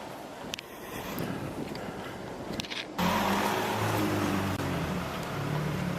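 A Pagani Zonda supercar drives by outdoors. Wind buffets the microphone at first, then a loud engine roar cuts in abruptly halfway through and holds close and strong to the end.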